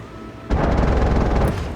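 A tank cannon fires in a tank battle video game, one heavy booming shot landing abruptly and rolling out into a sustained rumbling tail, loud and close with no voices.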